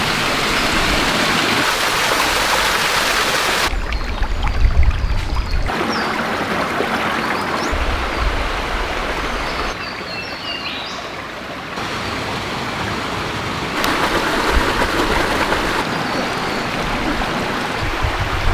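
A rocky bush creek with small waterfalls rushes steadily near Coffs Harbour, a loud continuous wash of falling and splashing water that swells and eases slightly throughout, with no voices.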